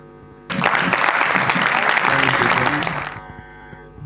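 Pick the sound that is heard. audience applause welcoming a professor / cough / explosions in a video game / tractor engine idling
audience applause welcoming a professor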